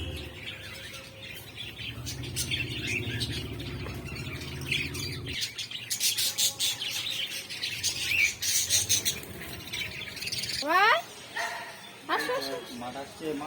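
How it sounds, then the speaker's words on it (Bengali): Many birds chirp and squawk in busy overlapping calls, loud and close, at a temple in Nabadwip, while people talk intermittently and a dog barks briefly. "কত পাখি"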